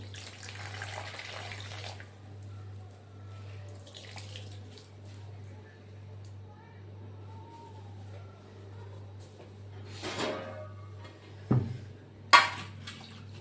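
Water swishes and splashes as chickpea leaves are rinsed, mostly quiet with a few sharper splashes and clinks near the end.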